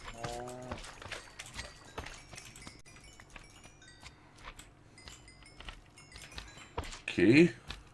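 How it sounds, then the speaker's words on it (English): A cow mooing in the Minecraft video game, with a short low moo at the start and another brief one near the end, set against faint game clatter and background noise. "you stupid cow!"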